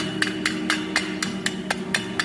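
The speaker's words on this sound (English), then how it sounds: "Now you're gonna need a hammer and a brush, and you're gonna knocking all that stuff off." A hammer chips slag off a fresh practice weld, nine evenly spaced sharp metallic taps close by over a steady background hum.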